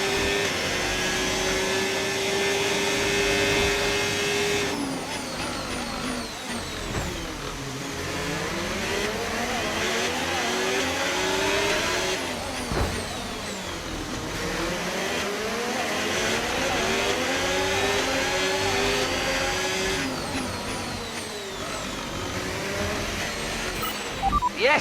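Ferrari SF-25 Formula 1 car engine in the F1 25 video game at the Baku Azerbaijan Grand Prix, a loud high-revving whine that climbs and drops through gear shifts and braking across a continuous lap.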